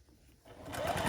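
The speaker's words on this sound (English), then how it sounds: "And we'll sew down that one." A sewing machine stitches quilt block pieces together: a short burst of close, steady, rapid whirring that starts abruptly and runs to the end.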